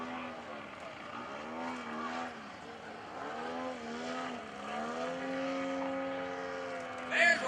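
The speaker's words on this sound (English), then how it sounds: "Enough horsepower to stop the airplane's vertical climb, hanging on the prop, making all the horse pressure, not even full throttle on the airplane, it's hovering." Radio-controlled model airplane hanging on its propeller in a hover at an airshow, the engine's buzzing whine rising and falling in pitch while a voice talks over it.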